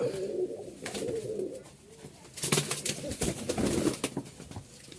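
Tumbler pigeons coo in soft, repeated bursts at a busy pigeon market in Mirpur, Dhaka, with crowd noise and chatter around them.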